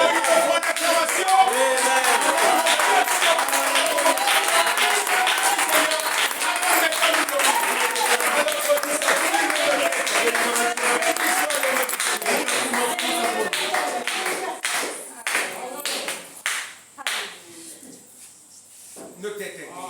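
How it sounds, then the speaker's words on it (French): Church congregation applauding and clapping in a sustained, dense wash that fills the room, with voices mixed in, then thinning into scattered claps toward the end. "Oh, il faut une acclamation."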